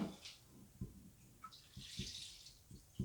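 Fruit juice trickling and splashing while fruit is pressed for homemade gin, a light, irregular liquid pour with soft drips and knocks close by.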